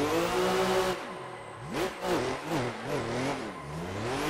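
Engine of Rad Dan's 2021 Formula Drift Toyota Supra in Forza Horizon, revving and echoing loudly, with rising and falling pitch sweeps as it accelerates and lifts, heard alone without talk.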